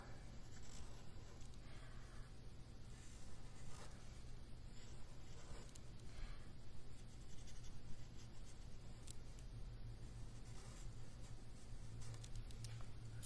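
Marker tip scratching and squeaking steadily across paper while a monster face is drawn for a kids' art class, a continuous close scribbling texture with no voices.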